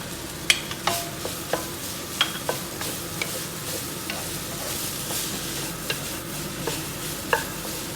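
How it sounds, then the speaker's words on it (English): Green onions are tossed into a sizzling pan for lettuce wraps, a steady frying hiss under repeated spatula scrapes and stirs at a fairly even pace, close and moderately loud. "Now we're going to add in your green onions."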